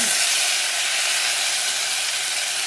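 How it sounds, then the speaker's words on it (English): Tomatoes and darkened chilies sauté in a pan for Bangalore-style rasam, giving a loud, continuous hissing sizzle like steam that stays steady from start to finish without any voices. "we're going to saute these until they're soft"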